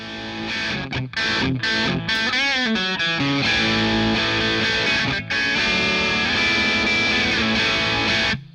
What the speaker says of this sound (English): it's a great distortion sound